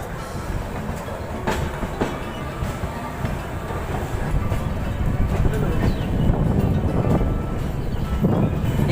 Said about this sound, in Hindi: अपनी ट्रेन जो है बापू धाम मोतिहारी बापू की जन्मभूमि से निकल चुकी है